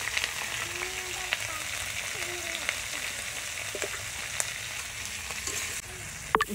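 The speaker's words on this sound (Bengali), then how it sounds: "চিংড়ি মাছগুলো ভেজে নেবো এবারে।" Shrimp frying lightly in a pan for a sour green hog plum and shrimp dish, giving a steady, fairly close sizzle that runs throughout with small crackles and occasional utensil clinks.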